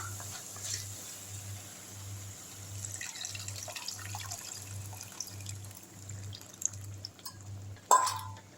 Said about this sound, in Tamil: இப்போது புளி தண்ணி எடுத்து ஊற்றிடலாம்